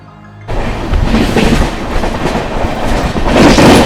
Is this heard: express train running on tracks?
yes